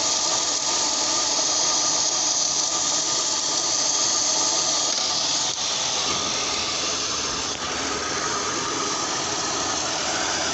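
A 2004 Kia Sorento engine with a misfire runs close by with a rough, uneven idle, a steady loud drone carrying faint irregular ticking and crackle from jumping spark.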